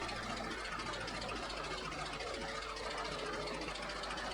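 An early 1910s Avery kerosene heavyweight tractor engine chugs steadily at a distance as the tractor moves in reverse, a low, continuous mechanical rumble with irregular knocking, faint and unbroken by voices.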